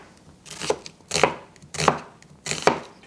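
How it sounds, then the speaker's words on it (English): Knife slicing ginger very thinly on a board, four crisp, evenly spaced cuts in quick succession, close and clear with nothing under them. "this is our ginger. Very, very thinly slice it first."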